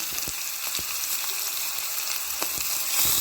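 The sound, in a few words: mustard seeds and onion sizzling in hot oil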